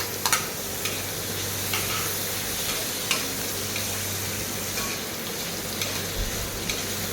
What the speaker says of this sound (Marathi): पाहू शकताय मस्त कांदा असा परततोय